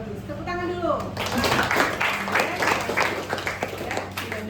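Students in a classroom clap their hands together in a burst of quick, close claps after a short stretch of talk, with voices continuing underneath.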